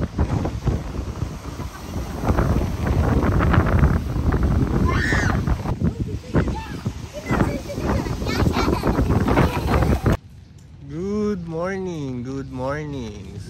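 Loud, steady wind buffets the microphone for about ten seconds at sunset in the Panay countryside while people talk underneath, then cuts to a quieter scene with tonal voices.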